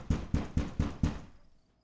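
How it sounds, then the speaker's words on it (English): Five firm, evenly spaced knocks on a house door at night, loud and close, followed by a fading silence. "Who knocks like that?"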